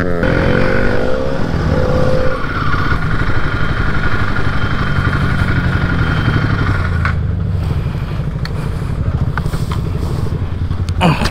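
A motorcycle fitted with an Akrapovic exhaust rumbles loudly and close at a bikers' meetup, its engine note steady with some crackling pops, heard alone without talk.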